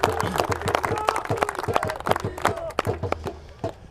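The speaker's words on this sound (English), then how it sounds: "So one more time, a big round of applause to all of you." Audience at a cricket T20 championship ceremony claps in a dense, uneven burst of individual hand claps, close and fairly loud, continuing for several seconds with voices mixed in.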